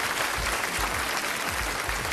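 Loud applause from the studio audience at a televised modeling competition final, dense continuous clapping with a few low thumps mixed in.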